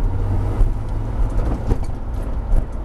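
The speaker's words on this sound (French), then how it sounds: "Tu mets la 2 et lance la voiture." A Porsche GT3 engine drones steadily at close range on a racing circuit, a low rumble that rises and surges slightly as the car pulls away in second gear.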